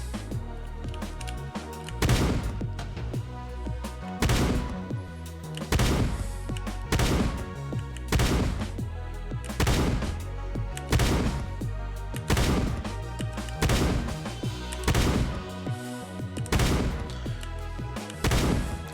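Shotgun blasts in the video game Shortventure 3, firing in a steady rhythm of loud booming shots roughly every second, each with a short ringing tail, no speech over them.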